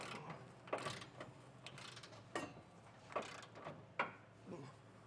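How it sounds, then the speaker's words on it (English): Torque wrench clicking as large bolts are tightened on a 2020 Ford F-250 during a bed rail kit install, several sharp mechanical clicks spread irregularly over a few seconds at moderate, close range. "So I'll go through and get all of our larger bolts properly torqued."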